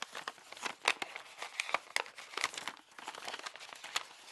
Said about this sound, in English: we're going to make a mountain fold